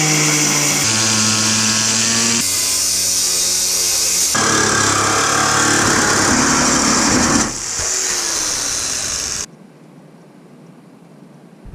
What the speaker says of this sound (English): We'll be using a jigsaw with a metal blade and a cutting wheel with a metal blade.